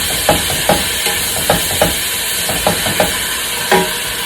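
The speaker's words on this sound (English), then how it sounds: "That means the water from the pork has been evaporated and now it's sizzling." Pork frying in hot oil over a high flame, a loud continuous sizzle with repeated sharp clanks and scrapes of stirring in a quick irregular rhythm, close up and with no voices.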